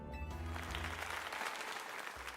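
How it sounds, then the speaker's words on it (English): A short burst of crowd applause and cheering in a Pokémon Legends video game swells after a brief musical tone, dense and sustained throughout. "let us give another heartfelt round of applause to GriffinOni."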